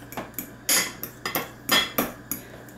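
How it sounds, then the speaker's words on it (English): Fork mashing cooked deviled egg yolks in a bowl, about ten sharp clinks and scrapes of metal against the dish in an uneven rhythm, close up with no voices. "so what I do is mash these up a little bit with a fork."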